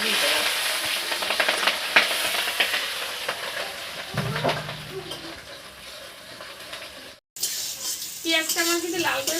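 Onions fry in hot oil with whole spices and dried chilies for a crab dish, giving a continuous crackling sizzle with stirring clinks throughout. A brief cut of silence breaks it near the end.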